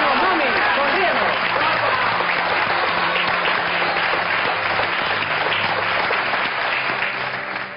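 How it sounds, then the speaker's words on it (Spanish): A studio audience at a Spanish television show claps in a sustained, dense round of applause, loud and full throughout before tapering slightly at the end. "que se merece el aplauso de corazón"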